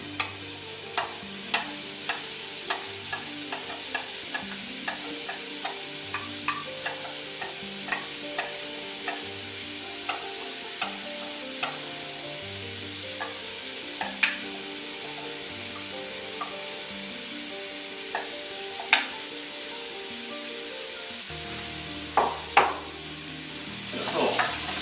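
Chopped onion and carrots sizzle in a pot of hot fat for a vegetable soup, a constant frying hiss broken by frequent sharp scrapes and knocks as a utensil stirs them, with no talking.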